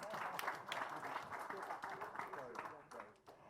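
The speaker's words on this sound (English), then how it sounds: "How about your round of applause, ladies and gentlemen?" Audience applause at a formal trade consultation event, a room of people clapping steadily and then thinning out toward the end.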